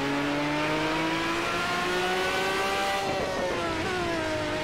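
Lamborghini engine in the Automobilista 2 racing game with a newly made sound, a loud, continuous high-revving drone whose pitch climbs and then dips briefly partway through.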